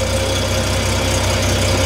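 A Mazda RX-7 Wankel rotary engine drones through its exhaust in a steady, loud, close idle with an even low pulsing throb and no voices over it.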